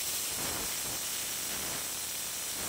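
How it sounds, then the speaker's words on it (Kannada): A pressure cooker of fenugreek-leaf rice on a medium flame lets out a soft, continuous hiss of escaping steam. The sound is faint and even throughout, with no distinct whistle peaks. "ಹಾಗೆ ನಾನು ಇದನ್ನು ಮೀಡಿಯಮ್ ಫ್ಲೇಮಲ್ಲಿ 2 ವಿಷಲ್ ತಗೊಂಡು ಬರ್ತೀನಿ"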